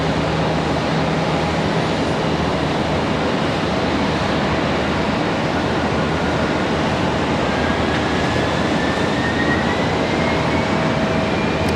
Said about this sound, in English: One of those 777s from Madrid touching down over behind us.